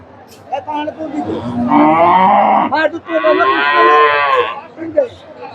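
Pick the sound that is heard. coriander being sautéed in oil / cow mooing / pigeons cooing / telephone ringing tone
cow mooing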